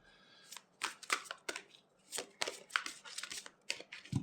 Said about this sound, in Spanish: me cuesta un poco de barajar este mazo